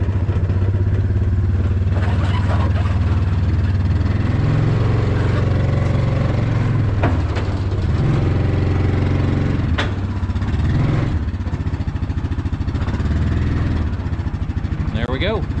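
An ATV engine idles and then pulls slowly onto a trailer, a steady close low rumble that rises and falls with the throttle while someone talks over it.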